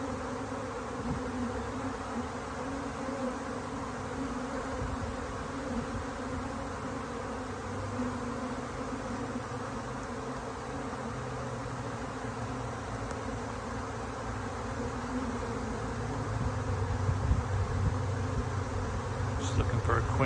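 A swarm of honeybees being gathered by hand, a steady dense buzz of many insects that holds close and even for the whole stretch and grows slightly louder near the end.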